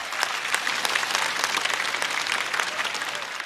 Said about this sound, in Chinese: 再次掌声送给菜菜